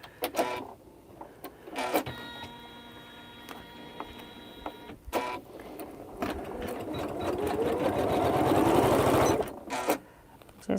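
A Janome sewing machine stitches in a quilting setting: a rising, continuous mechanical whir builds up and runs for several seconds before stopping, preceded by clicks and a brief electronic tone.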